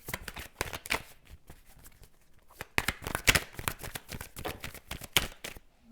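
Tarot cards being shuffled for a love reading, a run of crisp riffling and slapping bursts, close and fairly loud, with no talking.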